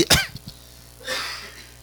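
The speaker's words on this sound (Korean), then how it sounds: "제가 기침을 많이 해가지고" A single sharp cough rings out up close during a Korean church Sunday sermon, followed by a breathy exhale or throat clearing a moment later.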